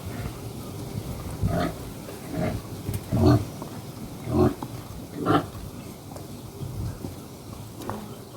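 Pigs grunt repeatedly at feeding time in a rural farm setting, a series of short low grunts spaced irregularly over quiet background noise.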